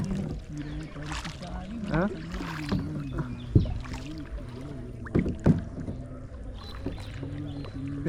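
A kayak moves through shallow mangrove water, its paddle strokes giving soft splashes and knocks amid wind noise while people talk throughout.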